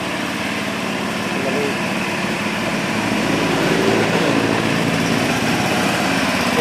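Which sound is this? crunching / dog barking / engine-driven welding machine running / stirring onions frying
engine-driven welding machine running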